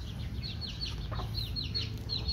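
A chicken clucks softly in a quick series of short calls, set against steady low background hum and outdoor noise.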